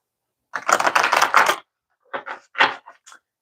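Two bursts of tarot cards being shuffled, a long riffle followed by a pause and a few shorter shuffles, close and crisp with no talking.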